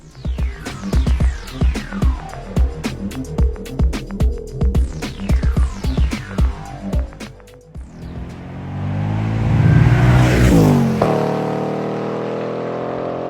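A 2024 Ford Mustang GT Performance Package drives past with repeated rising engine revs and gear changes, followed by a louder roaring surge as it passes close, then fading.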